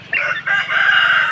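A rooster crows once, loud and close, a single drawn-out call lasting just over a second, in a rural yard in the aftermath of a super typhoon.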